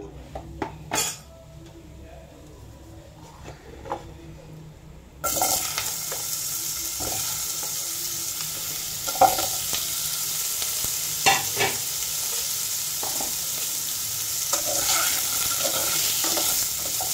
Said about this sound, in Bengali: এখানে আলু আর গাজর আর পেঁপে এটা আমি ভেজে নিই।